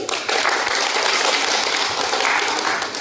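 Steady audience applause at a school prom, a dense burst of clapping that holds evenly throughout with no clear speech over it.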